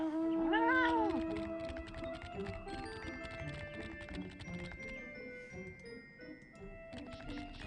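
A cat meows once, loudly, in a Final Fantasy game, a rising and falling cry at the start that gives way to busy game music and light tapping sounds.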